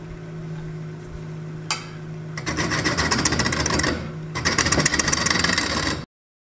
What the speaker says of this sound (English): So I'm going to take a gouge and just do some draw cuts.